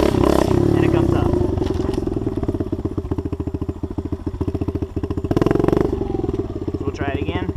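Small pit bike engine set up for stunting, revving hard and close through neutral and first gear during a wheelie attempt, with a rough pulsing throttle and surges and dips in pitch, while someone talks over it.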